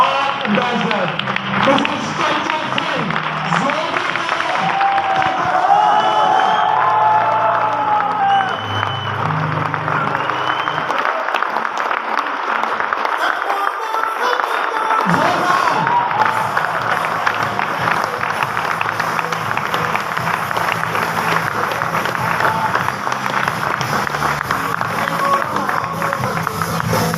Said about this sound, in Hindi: तो एक बार जोरदार तालियां सैंडी रोशन के साथ